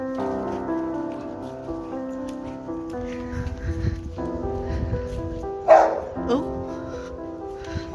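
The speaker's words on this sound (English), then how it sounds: "Little dogs going at each other." Dogs snarl and bark at each other on a cobbled street in the old Danish town of Ribe, with repeated yapping bursts over steady background music and a person talking.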